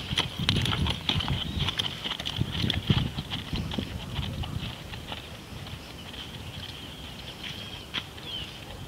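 Horse hooves clip-clop in a steady walking rhythm, fairly close, with a faint high whine behind them and no talking.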